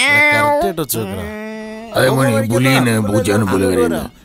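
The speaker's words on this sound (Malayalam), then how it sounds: "ഇവിടെ മാത്രമേ ആ പൂച്ചയുണ്ട്" Drawn-out, whiny cat meows, loud and close, come in a near-continuous run with a brief break midway, mixed with voice-like sounds.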